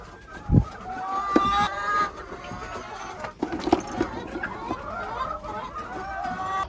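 Chickens cluck and murmur near an egg-laying box, giving repeated nearby clucks and squawks with a loud thump early on, over a noisy farmyard background.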